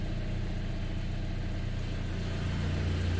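A Volkswagen Golf 5 GTI engine idles around 900 RPM, giving a steady low rumble with a constant mechanical hum, heard up close and alone over a few seconds.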